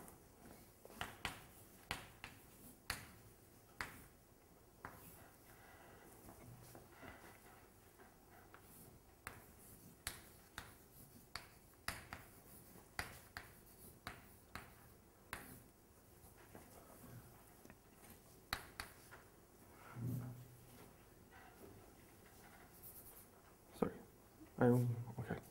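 Chalk taps and scratches on a board during a physics lecture, a series of short, faint, fairly regular strokes with quiet room noise between them.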